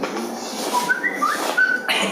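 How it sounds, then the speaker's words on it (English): A person whistles a short, bright tune of a few rising and falling notes, fairly near, over faint background noise. "I can hear someone whistling."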